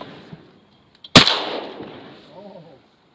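A single loud, sharp gunshot cracks at a ranch shooting range and rolls into a long fading echo, with faint voices murmuring near the end.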